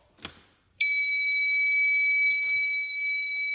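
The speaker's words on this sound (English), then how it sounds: "this alarm, it just goes off all the time" A disabled toilet alarm that sounds as soon as the power is switched on. A faint click comes first, then a loud, steady, high-pitched electronic tone holds without a break.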